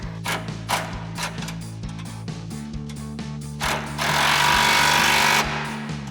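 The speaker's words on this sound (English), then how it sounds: "we're going to tighten this down with a 14mm wrench and a 14mm socket on our impact" An impact wrench with a 14mm socket hammers in rapid bursts while tightening an exhaust hanger bolt on a Ford F-150 Flowmaster Force II dual exhaust, loud and close, ending in a sustained rattling run.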